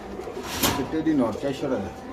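Soft pigeon coos rise close by at a pigeon farm with cages, a few low throaty calls overlapping with a man's speech.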